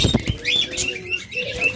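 Pet birds for sale, budgerigars, lovebirds, diamond doves and java sparrows, chirp and tweet close by in short bright calls, with bursts of wing flapping and rustling among them.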